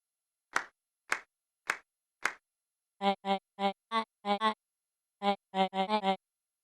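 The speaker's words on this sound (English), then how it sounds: "Solomon clapped with genuine delight." Clapping in the video game Beacon Pines: four sharp, separated claps followed by a quicker run of about a dozen crisp hand claps, close and clean with silence between.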